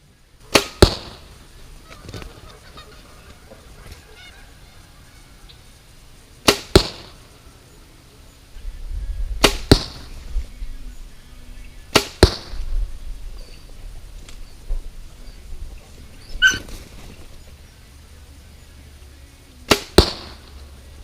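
Arrows shot in a grouping at a target 20 yards away, six sharp separate releases and impacts spaced a few seconds apart, loud and close over quiet outdoor background.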